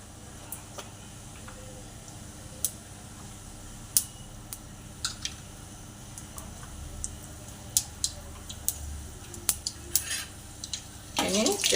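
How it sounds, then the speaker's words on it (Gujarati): Fenugreek seeds, mustard seeds and cumin crackle in hot oil in a pan, giving scattered sharp pops and ticks over a low sizzle, with a spoon clattering near the end. "થોડા મેથી દાણા નાખીશું, થોડી રાઈ અને થોડું જીરું નાખી તતડવા દેવાનું છે।"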